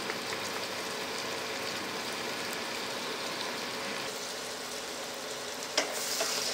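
Chopped onions frying in a pan give a steady, even sizzle at moderate level throughout, with a brief clink of a utensil near the end and no talking.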